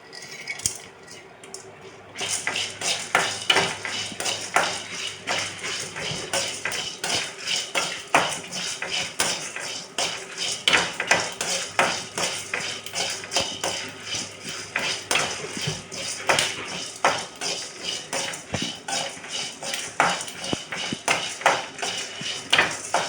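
Coriander seeds and black pepper dry-roasting in a pan for idli sambar, stirred steadily with a metal spoon, giving a continuous close run of scraping, rattling clicks that carries on alone for the whole stretch.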